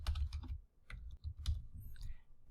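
Soft clicks from a computer keyboard form a quick, uneven burst of typing, with short pauses between keystroke clusters, faint and close by.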